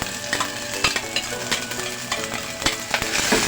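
Black beans going into a frying pan of humba, with stirring scrapes and a steady sizzle running throughout, punctuated by several sharper clatters of utensil against pan.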